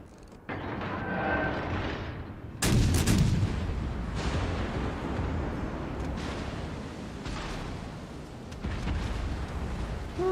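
Naval gunfire in World of Warships, with deep booming salvos, one very loud close blast followed by distant rolling shots and rumbling over a constant low drone.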